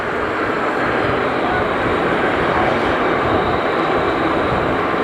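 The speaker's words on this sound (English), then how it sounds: "146 PQ spools up her engines to begin her taxi out." Jet engines spooling up as an airliner begins to taxi at JFK airport, a loud, steady broadband roar with no clear pauses, heard from nearby.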